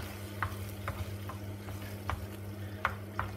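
Cooked maccheroncini being stirred through potato cream in a pan, with soft wet scrapes and a few sharper clicks of the spoon over a low steady hum, close and unvoiced.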